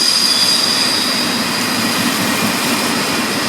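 A long freight train in Japan passes close by, a loud, steady roar of rolling wagons and wheel noise with a high metallic squeal running throughout, no voices.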